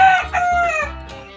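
A show rooster, a chicken being prepared for a poultry show, gives a single loud, close crow with a rising then falling cock-a-doodle-doo, heard alone.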